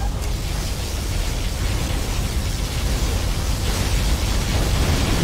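A USA particle cannon superweapon in Command & Conquer Generals Zero Hour fires a steady, loud, hissing roar that swells slightly toward the end, broadband and unbroken like a rushing torrent.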